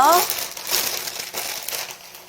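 Plastic wrapping around freshly bought eucalyptus stems crinkles and rustles in a close, continuous crackle, with a brief voice at the start.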